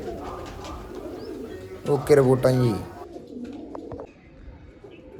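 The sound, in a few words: pigeons cooing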